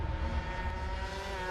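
Ducati MotoGP racing motorcycle engine at the 2021 Styrian Grand Prix in Austria, a steady, loud high-revving drone with sustained harmonic whine, continuous throughout without pauses.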